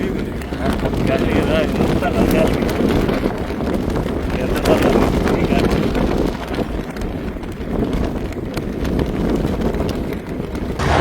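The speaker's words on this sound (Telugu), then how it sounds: "గాలి" Wind sweeps across open farm fields, a steady, loud broadband roar buffeting the microphone throughout, with muffled voices faintly underneath.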